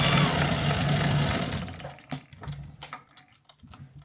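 A sewing machine stitching stretch fabric runs in a loud, fast steady whir, then breaks into short, uneven bursts of needle clatter, close by with no talk.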